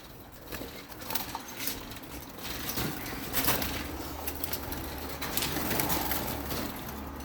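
Pigeons coo softly in a loose, repeating pattern against steady background noise, with a few sharper flutters and scuffs nearby.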